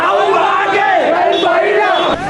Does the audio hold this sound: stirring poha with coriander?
no